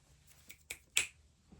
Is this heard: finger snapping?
yes